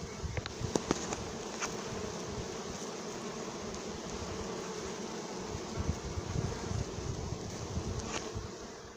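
About 50,000 honeybees packed into one small box, roughly a foot by four feet by eight inches, fill the space with a dense, continuous buzzing drone, steady and close, heard alone with no voices.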